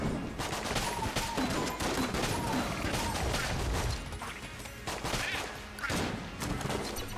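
The SAA gun in Enter the Gungeon fires in rapid, repeated bursts whose shots ricochet off walls, a dense crackling volley that continues through the whole stretch.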